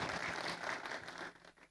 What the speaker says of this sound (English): Again, give him applause.